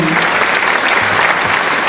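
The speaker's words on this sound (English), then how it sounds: "A round of applause for me." A quiz show audience gives a burst of applause for a contestant's answer: steady, dense clapping that stays loud and even for just under two seconds.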